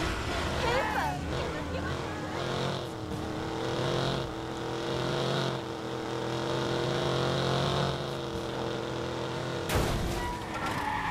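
A car in Watch Dogs drives and accelerates, engine revving and shifting up and down through gears at close range, while someone speaks German over it.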